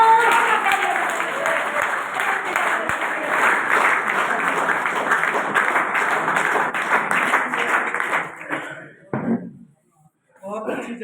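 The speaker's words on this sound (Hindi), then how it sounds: "तो विशेष जोरदार तालियों के साथ स्वागत करेंगे सरकार श्रीमान BD" Loud, sustained applause from a meeting audience welcoming a speaker, dense clapping for about eight seconds before thinning to scattered claps and a brief lull, then a few more claps.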